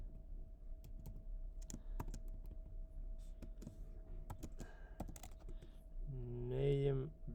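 Code being typed on a computer keyboard, scattered quiet key clicks in irregular bursts over a low hum, with a short tonal sound near the end.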